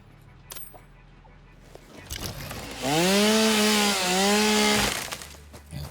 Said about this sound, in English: Have I got a chainsaw on me?